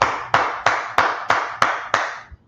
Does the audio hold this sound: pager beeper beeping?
no